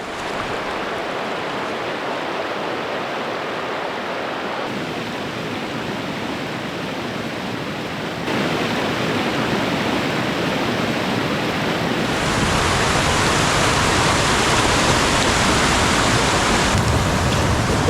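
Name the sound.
river water flowing, high spring level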